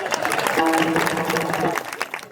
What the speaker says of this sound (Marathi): तुम्ही एकदा टाळी वाजा